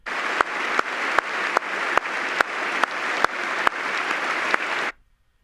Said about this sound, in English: everybody's making themselves feel good by applauding for her